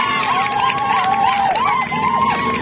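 Indoor audience at a Rahim Store event cheering and applauding for Imran sahib, with steady clapping under rising, warbling shouts and whistle-like calls that carry through the whole stretch.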